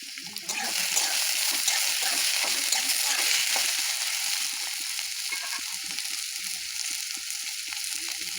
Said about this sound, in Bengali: কুচিয়ে রাখা পেঁয়াজটা দিয়ে দেবো, কেটে রাখা পেঁয়াজটা দিয়ে দেবো